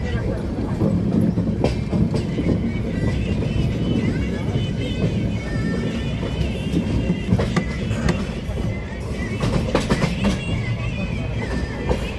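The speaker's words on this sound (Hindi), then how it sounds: "बिल्कुल डॉट ऑन टाइम चल रही है अपनी ट्रेन मगध एक्सप्रेस।" The Magadh Express passenger train runs toward New Delhi, heard from on board as a loud, continuous rumble with rattling and clickety-clack from the rails throughout.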